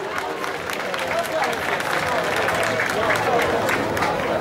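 An audience claps and cheers in a dense, sustained wash of applause at a public gathering in Gherla. The crowd noise stays loud and steady throughout, without a break.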